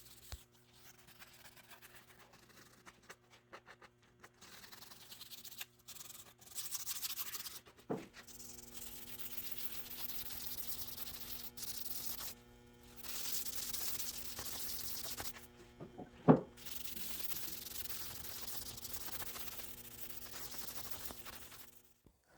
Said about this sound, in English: I'm going to go around and hit all the edges and corners with some 150 grit sandpaper just to break the sharp edge